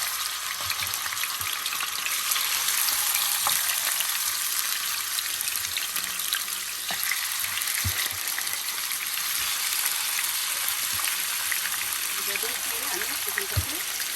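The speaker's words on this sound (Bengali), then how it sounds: "আমার তেলটা গরম হয়ে গিয়েছে, এখন আমি চিকেনগুলো দিয়ে" Chicken pieces frying in about two tablespoons of hot oil in a pan for a boiler chicken bhuna, a loud, constant hissing sizzle with occasional clatters and pops throughout.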